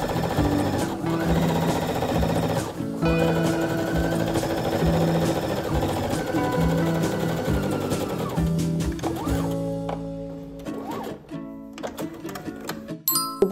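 A sewing machine runs a long, steady seam on pajama pants with a 0.5 cm allowance, its loud rapid mechanical stitching continuous for several seconds with a brief pause, then tapering into scattered clicks and handling noises.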